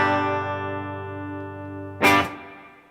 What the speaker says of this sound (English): So you can hear the reverb there. It's very subtle in the background